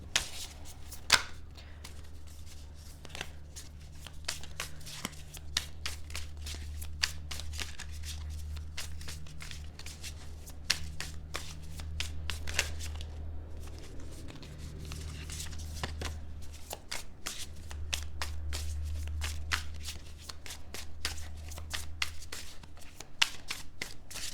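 Tarot cards being shuffled by hand, a long run of crisp riffling and flicking bursts with short pauses, close and fairly quiet against a low steady hum.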